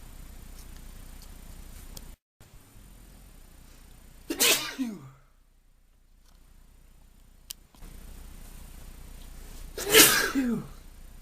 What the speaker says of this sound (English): Oh, about half an hour's worth of sneezing.